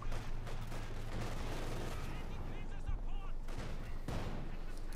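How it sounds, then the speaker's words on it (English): A T-70 tank fires on Grenadiers in the video game Company of Heroes 2, with bursts of rattling gunfire and booming shots amid battle noise. A commentator talks over it. "T-70 opens up, engaging in the Grenadiers"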